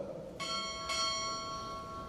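Two crisp strikes on a ship's bell at a Recruit Training Command chief petty officer pinning ceremony, spaced roughly half a second apart and ringing on with a sustained metallic shimmer, with no voices over them.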